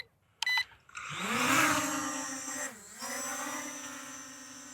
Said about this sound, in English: we're going to get the drone back in the air for the second flight